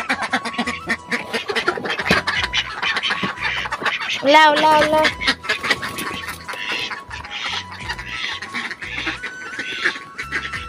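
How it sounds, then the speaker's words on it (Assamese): Domestic ducks in a yard let out a short burst of loud nasal quacks midway, with someone talking before and after over light background noise. "আৰু চাকচোন ইমান যতন কৰি ৰাখিবলগীয়া হয় আমাৰ হাঁহকেইজনীক"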